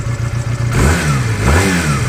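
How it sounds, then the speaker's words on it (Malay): A Patagonian Eagle 250 classic motorcycle engine revs up loudly and close, rising from a steady idle into a gruff, throaty roar. "Bayangkan motosikal klasik tapi bunyi macam 2 inline,"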